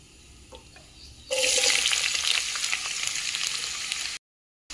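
Onions sizzle loudly in hot oil with mustard seeds and cumin in a kadai, a bright steady hiss that bursts in suddenly, holds strong for a few seconds, then cuts off.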